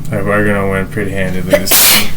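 One loud, sharp sneeze bursts out right after a man's speech, close to the microphone and brief, ending the short stretch of talk.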